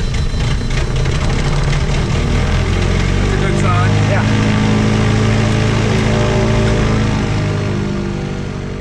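Lake Buccaneer amphibious airplane's propeller engine running steadily at idle right outside the hangar, a loud continuous low drone with throbbing harmonics, easing slightly toward the end.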